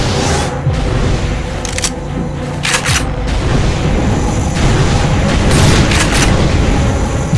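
Cannon fire in a chaotic shooter game: heavy booms and sharp gunfire blasts rolling over a dense, loud wash of battle noise, with several bright explosive cracks scattered through.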